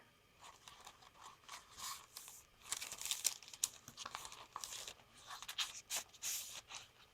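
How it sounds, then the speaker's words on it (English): Paper bag crinkling and rustling as it is handled during a junk journal flip-through, soft and close, in uneven bursts that grow busier midway. "Paper bag."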